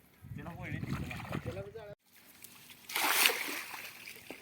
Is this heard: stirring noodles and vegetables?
no